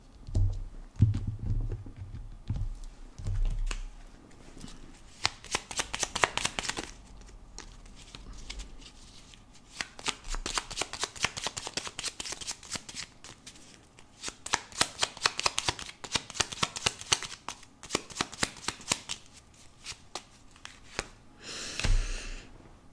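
Tarot cards shuffled by hand, long bursts of rapid crisp riffling clicks in repeated rounds with short pauses between them, close and fairly quiet, with a little low handling noise at the start.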